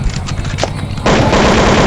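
A toy gun fires a loud, rapid, rattling burst that runs steadily for about a second, close by, after a short stretch of background noise.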